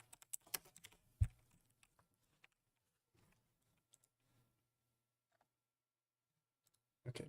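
Computer keyboard typing during a game-development session, a quick burst of close key clicks, then scattered isolated taps with long quiet gaps and a short flurry at the end.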